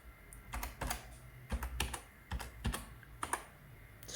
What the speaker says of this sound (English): I'm going to type in right here